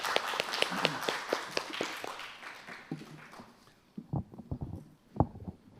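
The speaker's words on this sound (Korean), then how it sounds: "박수로 부탁드리겠습니다." Seminar audience applauding as the chairman is introduced, a brief burst of claps that thins out into a few scattered, sharper individual claps near the end.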